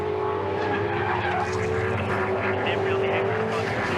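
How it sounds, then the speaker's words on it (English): A V8 Supercars race car running off the track at a 2007 championship round, a loud sustained engine roar with skidding and tyre noise under faint commentary for about four seconds. "Somebody's gone off in a big way."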